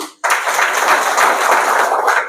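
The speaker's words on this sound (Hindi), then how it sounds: "अच्छा, सबको राजा बनना है, बहुत अच्छा, ताली तो बजाओ" A spiritual gathering's audience bursts into clapping after a brief silence, a close, dense round of hand claps that holds steady to the end.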